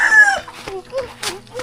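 A rooster crows loudly and close, followed by scattered clucks and short calls from chickens on a farm, with other birds chirping faintly.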